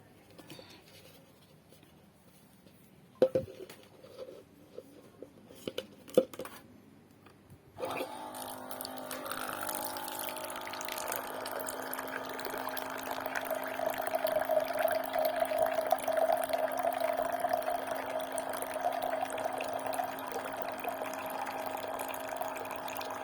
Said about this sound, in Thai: เดี๋ยวขอเติมน้ำก่อนนะคะ